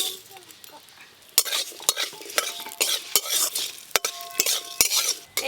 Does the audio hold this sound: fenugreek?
yes